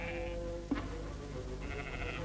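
Goats waiting at a well trough bleat over a low, steady background hum, one short, wavering bleat standing out clearly in the middle and fainter calls drifting in before and after.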